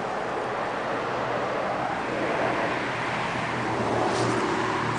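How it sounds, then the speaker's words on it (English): Steady outdoor road noise of cars passing at moderate distance, a broad continuous rush with low engine hum, mixed with wind buffeting the microphone, no talking. "Let's see where these cars go."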